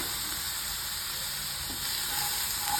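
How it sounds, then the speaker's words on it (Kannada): Green chillies frying in a cooking pan, giving a steady, close hiss and sizzle that runs unbroken throughout with no talk. "ಮತ್ತು ಇದೇ ಪಾತ್ರೆಗೆ ಈ ಮೆಣಸಿನಕಾಯಿ ಹಾಕಿ ಹುರಿಯೋಣ"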